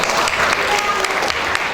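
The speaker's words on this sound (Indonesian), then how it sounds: "tepuk tangan buat aku" Dense audience applause fills the moment at a Telkomsel partnership event at UNU Blitar, steady clapping throughout with a faint voice or two underneath.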